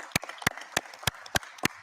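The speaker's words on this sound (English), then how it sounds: "Oh, clap it up, clap it up." A few slow, evenly spaced claps ring out sharply and close by, roughly one every third of a second, as a single person applauds in a studio setting.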